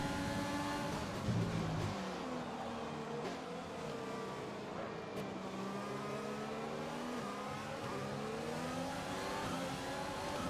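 Formula 1 cars in the F1 2020 video game at Zandvoort, racing on with a continuous high engine whine that climbs and falls through gear changes. The sound is loud and steady, with no talking.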